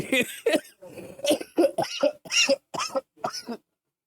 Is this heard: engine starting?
no